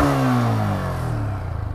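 Motorcycle engine, a new bike put in neutral with choke applied, revving loudly with a rising and falling drone, then settling into a pulsing idle near the end, with no talk.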